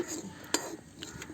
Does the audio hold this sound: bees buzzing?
no